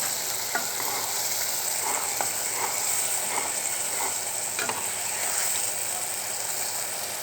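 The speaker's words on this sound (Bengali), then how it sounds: "মরিচের গুঁড়া, ধনিয়ার গুঁড়া, হলুদের গুঁড়া সব দিয়ে ভালো করে কষিয়ে নিচ্ছি" Chili, coriander and turmeric powders sizzle in oil in a pan, stirred with a spatula that gives soft, irregular scraping clicks over a constant close frying hiss, no voices.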